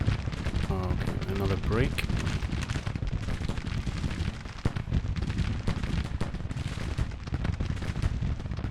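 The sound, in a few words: artillery fire in Civil War video game Grand Tactician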